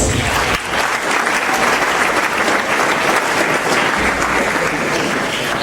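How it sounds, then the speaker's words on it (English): Steady, dense applause from an audience at a live design competition, continuous and full throughout with no pauses or voices over it. "A last round of applause to all of them, please."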